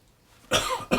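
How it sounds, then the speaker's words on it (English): Two quick, loud coughs close by, the first strong and drawn out, the second right after it, following a moment of near silence. "It started with a cough."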